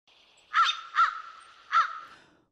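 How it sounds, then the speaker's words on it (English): Crows at Harbor Key give three loud, harsh caws, evenly spaced and close by, with no other sound around them. "Crows are one of the most intelligent bird species with excellent memories."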